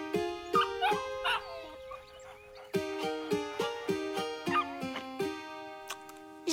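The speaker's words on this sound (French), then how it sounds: "Oh, un petit chiot. Oh, tu es perdu," A lost puppy yips and whimpers in a run of short, sharp cries, fairly close, with a clear repeated rhythm and no talk over it.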